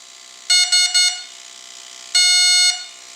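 An electronic speed controller in a Dynam Primo 1450mm STOL RC plane beeps through throttle calibration: three quick loud tones, a pause, then one longer tone, bright and close with nothing else heard.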